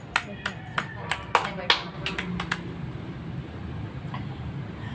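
A short run of scattered hand claps opens at an online business presentation, about eight sharp separate claps in the first two seconds, then fading into quiet room noise.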